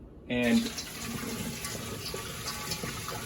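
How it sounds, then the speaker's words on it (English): Hot water from a pot poured over vegetables in a sink to rinse them, a steady splashing, running-water rush that starts abruptly and continues at moderate level, with a brief spoken word near the start. "rinse the hot water on the veggies"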